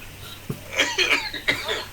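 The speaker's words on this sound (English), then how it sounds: "oh, that cough ain't good" A short burst of harsh, raspy coughs, two or three in quick succession, close up and fairly loud.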